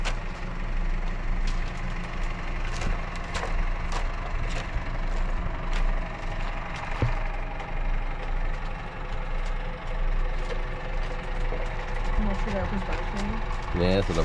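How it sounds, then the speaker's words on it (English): A tractor works inside an ostrich enclosure at a Swedish wildlife park during keeper maintenance, its engine idling with a steady, chugging low rumble at moderate distance throughout, while people talk over it. "The keepers are in there doing some maintenance with the tractor."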